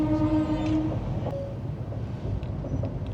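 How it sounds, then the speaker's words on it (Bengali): An old WAG-5 electric locomotive rumbles past at Aligarh Junction station, with a steady heavy roll of rail noise, a brief tonal horn-like note early on and scattered clanks throughout. "ডাব্লিউএজি ফাইভ বহু দিনের পুরনো ইঞ্জিন দেখলাম"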